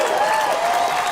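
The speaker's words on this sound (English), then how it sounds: "I give you claps." People clap to praise a child's painting at home, a short burst of dense, even applause heard up close over its full length.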